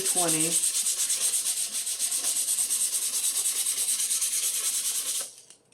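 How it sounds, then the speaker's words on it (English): Rhythmic back-and-forth scratching of hand sanding wood with 220-grit sandpaper, close and steady, stopping near the end; a brief squeak at the start. "you can start sanding with this"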